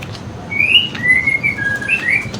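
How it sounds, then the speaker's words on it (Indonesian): A white-rumped shama, the murai batu, calls from an aviary cage, giving several clear whistled notes close by over a faint background hum. "Nih kita akan mengumbar murai batu yang tadi ya"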